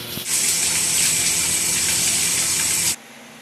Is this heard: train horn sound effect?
no